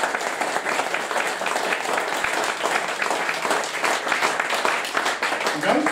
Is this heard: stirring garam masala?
no